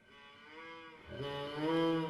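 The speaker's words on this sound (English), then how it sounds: "This is the goat horn for dream." A goat horn from a video game sounds its dream call, a low, droning, slightly wavering horn tone that swells and grows richer and louder halfway through, heard alone.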